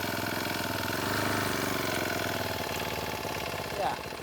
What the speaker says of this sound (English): And then basically, you're going to start the engine.